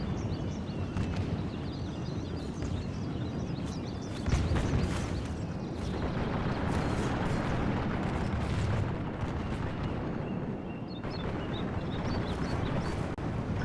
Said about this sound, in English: The musketeers here will receive a cannon hit.